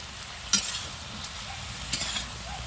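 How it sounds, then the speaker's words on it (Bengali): Broccoli with a little salt and turmeric sizzles steadily in a frying pan while a spatula scrapes through it in two distinct stirring strokes, close and clear with no talking. "এবার একটু ভালো করে নেড়ে চেড়ে দিচ্ছি।"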